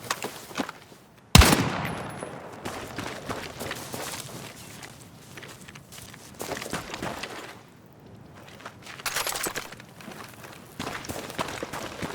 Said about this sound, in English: Enemy contact! Open fire!